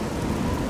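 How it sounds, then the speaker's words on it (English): Steady rain with a low thunder rumble in the Oblivion video game, a brief, fairly loud wash of noise with no talking. "And now it's raining."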